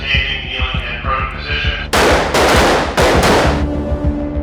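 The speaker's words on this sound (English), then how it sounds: "Recruits spend hours on the firing range." Gunfire on a firing range during Secret Service recruit training, loud bursts of rapid shots cracking out close by over a steady background din, the volleys coming in three heavy blocks.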